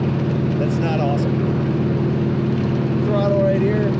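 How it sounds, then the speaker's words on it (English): A 1936 Ford Deluxe 3-Window Coupe sits idling after a touch of choke and throttle, its engine giving a steady low, even rumble with faint background voices over it. "touched the throttle, and she's idling"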